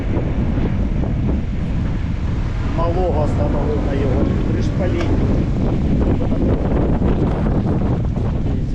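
Steady buffeting wind noise on a camera microphone during a bicycle ride in Poltava, low and rumbling throughout, with a voice speaking over it.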